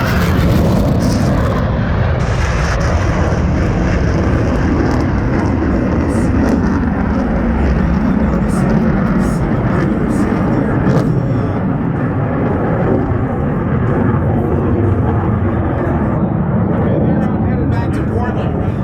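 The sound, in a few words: F-15 Eagle jets with Pratt & Whitney F100 turbofan engines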